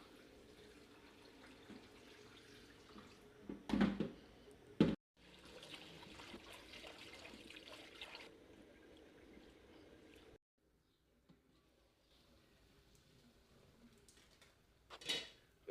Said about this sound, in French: c'est le moment de le laver maintenant. Sauf que moi, je lave le riz toujours 3 fois